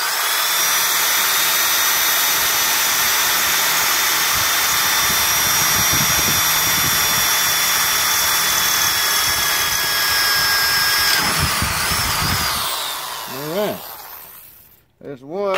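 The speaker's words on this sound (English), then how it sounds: "Alright, I got the drill ready." A power drill bores through a hole in a Weber Smokey Mountain grill to fit a wheel and cylinder lock kit, whining steadily and loudly for several seconds before a voice speaks at the end.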